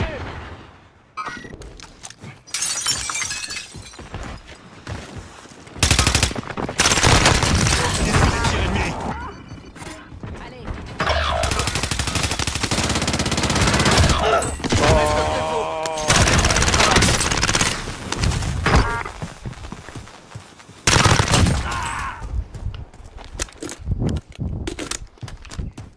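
Shotgun blasts and bursts of automatic gunfire from the Warzone battle royale video game, loud and repeated in dense volleys across the whole stretch with brief gaps between.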